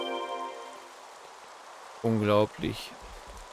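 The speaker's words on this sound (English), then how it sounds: "Rain, how inconvenient." Soft, steady rain patters in the background of Xenoblade Chronicles 3, faint and continuous while a voice speaks briefly over it.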